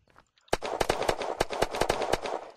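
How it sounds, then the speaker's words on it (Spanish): Rapid gunfire in the Unturned survival video game, a sharp automatic burst of about a dozen loud, closely spaced shots that starts abruptly after a brief near-silence. "¿Quién cojones me dispara?"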